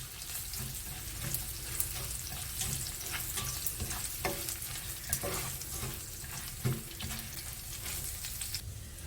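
Millet and toor dal are stirred together in a pot, with scraping and clattering stir strokes at irregular intervals over a constant hissing, sizzling background, fairly faint and without talk.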